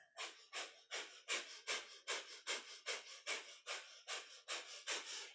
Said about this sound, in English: we hold this posture with a breath of fire. That's our panting breath through the nose.